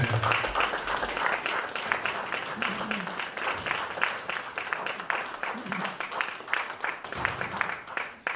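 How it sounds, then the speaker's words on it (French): Audience applause at a 30th anniversary celebration evening, a dense, continuous clapping from a large crowd with scattered voices and bursts of chatter mixed in throughout. "vous méritez notre applaudissement du tonnerre et du cœur"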